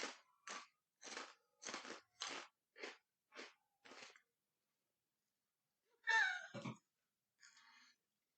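Bokksu snack chips are crunched and chewed close to the mic in a quick series of about eight sharp bites, a pause, then a louder crunch and a faint final one.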